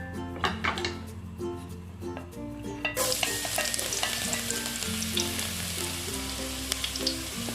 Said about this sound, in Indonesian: kita masukkan bawang putih